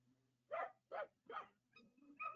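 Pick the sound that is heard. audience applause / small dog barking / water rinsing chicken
small dog barking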